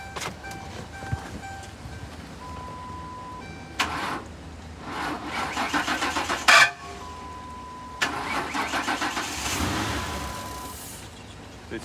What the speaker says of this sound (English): It starts up and quickly shuts off.